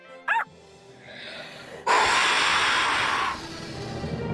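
A cartoon puppy gives one quick high bark near the start, followed by a loud fizzing, hissing burst of magic effects.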